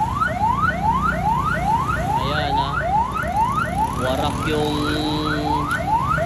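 Loud ambulance siren at a crash between two ambulances in Malanday, a rapid rising wail repeating steadily and close by throughout, with a brief spoken voice underneath.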